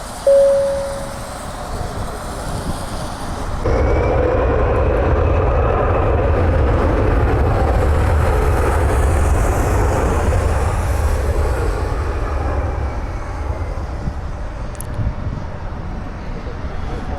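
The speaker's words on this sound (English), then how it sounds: "Meanwhile, the Gulfstream taxiing over to 24 left." A Gulfstream business jet taxis toward runway 24 left at Cleveland Hopkins airport on a foggy day, its steady engine roar swelling after a few seconds and holding loud and continuous, with a brief tone near the start.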